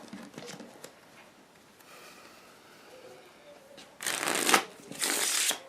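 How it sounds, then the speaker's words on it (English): Two quick riffle shuffles of a deck of playing cards during a card trick, close and crisp, following a quieter stretch with faint background sound. "I'll give it one more shuffle."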